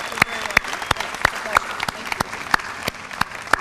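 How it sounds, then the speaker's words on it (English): Audience applause at the 2012 Arlington ISD Entrepreneurship Day awards ceremony, a steady patter of crisp, evenly spaced claps in a hall, fairly close and moderately loud. "And one more round of applause for all the contestants, the teachers, the parents, everyone involved."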